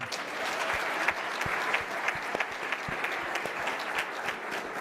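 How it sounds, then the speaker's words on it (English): Audience applause for a minister at a testimony event, a steady wash of many hands clapping, moderately loud and continuous, with a few sharper individual claps standing out. "Applaudissez-le."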